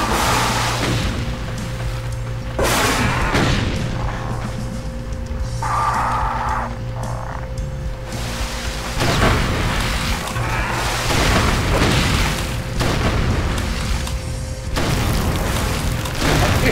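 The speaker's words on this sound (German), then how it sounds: "Ich schieß doch direkt auf ihn drauf!" Gunfire in Brutal Doom (FreeDoom II on GZDoom, Gamma Labs level): a dense stretch of loud booming shots and blasts repeating throughout, layered over a steady hum of game music and ambience.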